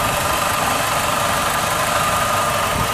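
A 2006 PT Cruiser's 2.4-litre four-cylinder engine idles close by, a loud, steady, even drone with no change in pitch and nothing else heard.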